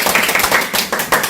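A small lecture audience claps for the lecturer in a brief burst of quick, scattered hand claps, fairly close and without voices.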